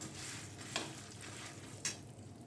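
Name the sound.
dry roasting chana dal and urad dal with chillies in pan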